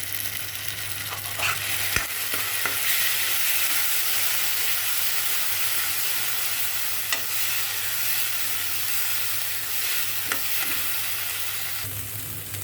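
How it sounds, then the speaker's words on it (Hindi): Onions fried golden brown with a spice paste sizzle steadily in a pan for a yam curry, a continuous close hiss with occasional stirring scrapes and clicks and no talking. "इस पेस्ट के साथ भी थोड़ा सा भूनेंगे"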